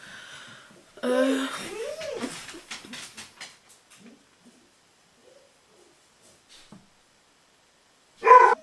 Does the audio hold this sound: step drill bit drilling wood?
no